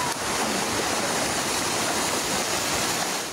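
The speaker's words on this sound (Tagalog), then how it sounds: "rumagasa ang kulay tsokolating baha na may tangay na sandamakmak na kahoy at sanga ng puno" Chocolate-brown floodwater rushes down a dike in Barangay Labangal, General Santos City, carrying masses of wood and tree branches, a loud, steady broadband roar of churning water that continues without a break.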